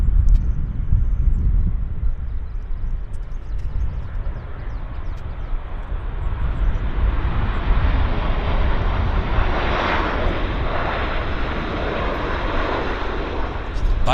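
An Air Canada Boeing 787 Dreamliner airliner at Vancouver Airport roars loudly and continuously, its broad engine rumble swelling and brightening as it passes near, with a little wind noise and some talk.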